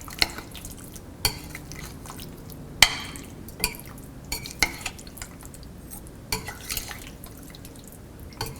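Boneless fish pieces such as king fish or pomfret being mixed with tikka masala in a bowl: quiet, irregular wet squelches and light clinks from handling, with several sharper taps spaced across the stretch, no talking.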